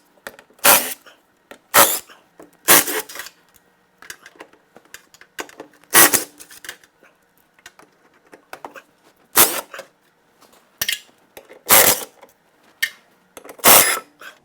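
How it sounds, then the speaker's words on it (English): An impact wrench takes out 13 mm transmission mount bolts on a classic Mercedes R107 SL, loud bursts of rattling hammering about a second apart with small clinks and handling noises between them, close up. "It should only take a second using my trusty impact."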